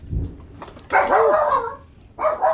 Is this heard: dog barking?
yes